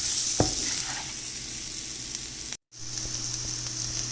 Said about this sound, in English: Now mix them well and let it cook until they are golden brown and reduce to half in the volume.